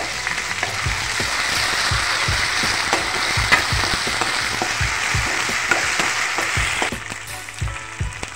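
Onions frying with ginger-garlic paste in a pan for stuffed masala brinjal, a loud steady sizzle under repeated spatula scrapes and knocks, quieting near the end.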